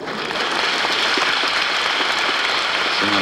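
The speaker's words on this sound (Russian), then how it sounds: "Зрители встречают Арлазорова аплодисментами." A concert audience applauds Arlazorov's entrance in a loud, dense, unbroken wash of clapping that holds steady throughout.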